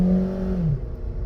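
A Honda Stream RSZ engine revs hard in a brief, loud burst, its tone climbing and then falling away as the acceleration eases off.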